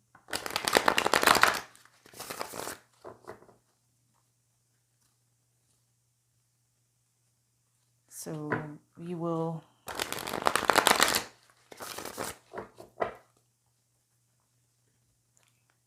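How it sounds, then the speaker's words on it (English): A deck of cards is riffled and shuffled in two quick, close bursts of crisp flutter, with a short spoken phrase in between. "I just feel like I need to shuffle one more time"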